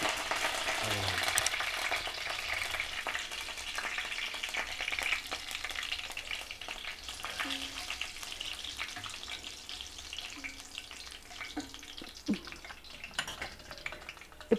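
Mustard seeds, cumin and curry leaves crackling in hot oil for ginger tomato chutney, a loud busy sizzle at first that settles into steady frying with scattered pops and occasional stirring clinks.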